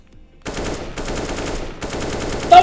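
Rapid automatic gunfire from the video game CS:GO rattles in two close, loud bursts after a short silence, with a brief gap between them and a sharper hit near the end.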